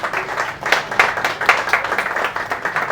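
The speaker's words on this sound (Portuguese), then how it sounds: "aplauso fortemente, por favor." Audience applause at a travel agency and tourism event in Portuguese, a short burst of many hands clapping with a rhythmic, fairly steady beat, moderately loud and without speech over it.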